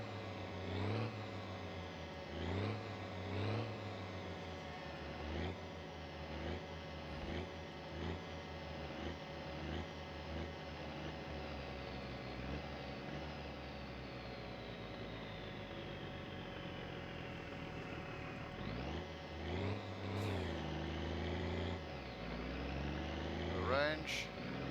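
A car engine idles and revs steadily while oil pressure builds in the My Summer Car video game, with repeated rising and falling engine notes and a person talking over it.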